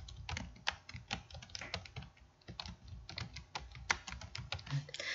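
Quick, irregular keystrokes on a computer keyboard while a chart title is typed into a PowerPoint slide, soft and close with no voices.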